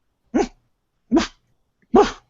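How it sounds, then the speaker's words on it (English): A small dog in a pet carrier lets out three short, muffled barks spaced evenly apart, close and clear against silence. "We call it an inside bark."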